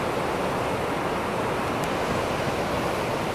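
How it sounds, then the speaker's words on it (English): Rushing river rapids just above Niagara Falls, a steady loud broadband roar of churning water that continues unbroken throughout, with no voices. "Here's more of the rapids."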